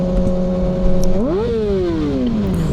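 A 2020 Kawasaki ZX6R motorcycle engine hums steadily, then its pitch swings up sharply and slides back down in a single loud rev or pass-by.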